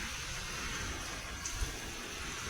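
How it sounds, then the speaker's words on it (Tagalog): Heavy rain during a windy storm in the UAE: a steady, dense hiss of rainfall with a brief thump, and no voices. "Lakas ng ulan."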